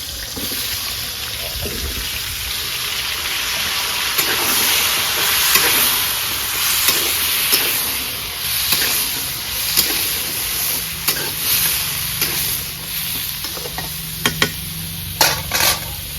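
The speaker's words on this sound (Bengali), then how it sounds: "এই যে আমার তেল গরম হয়ে গেছে। এখন আমি এই যে পেঁপে দিয়ে দেব।" Papaya and potato pieces frying in hot oil in a Bengali vegetable dish, a dense continuous sizzle with intermittent stirring scrapes and clinks, close and fairly loud.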